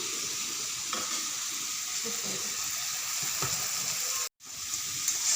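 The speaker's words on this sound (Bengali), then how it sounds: "পেঁয়াজ আর টমেটোটা ভালোভাবে ভাজা অবধি আমি এখানে কড়াইয়ে রেখে দেবো" Onion and tomato fry in a wok with a constant, even hiss and a few soft stirring knocks, moderately close, interrupted by a brief cut near the end.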